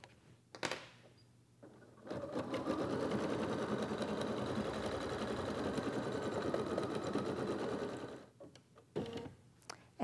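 An embroidery machine stitches dark gray thread into white felt, a fast, even mechanical whir lasting several seconds, framed by brief clicks and handling noises before and after.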